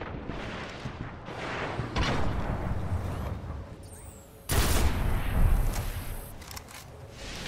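Heavy artillery fire in a video game: dense, rolling booms and blasts, with a sharp, louder burst of explosions partway through, fairly close and without talk.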